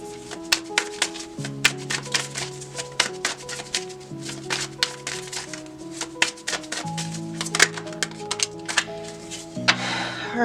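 Tarot cards are shuffled in a steady run of crisp, rapid riffling clicks, close and moderately loud, with a soft melodic music bed playing underneath and no talking.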